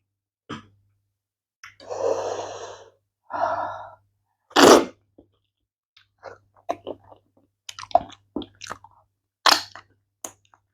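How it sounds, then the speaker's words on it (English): Close-miked chewing of rice fufu with ogbono soup comes in scattered wet, sticky bursts and soft mouth noises, with a few breathy sighs and hums between bites and quiet gaps. "as you can see, I'm chewing today"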